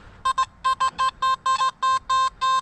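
A Nokta Makro Simplex metal detector sounds a series of about ten short, loud, tonal beeps in an irregular rhythm as the coil passes over a nickel outdoors in a park, with no talk.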